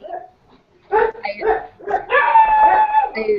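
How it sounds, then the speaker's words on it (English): Dogs barking outdoors in the Caribbean, a few sharp barks and yelps breaking out over a few seconds at moderate distance, mixed with voices talking. "they're dogs barking in the Caribbean"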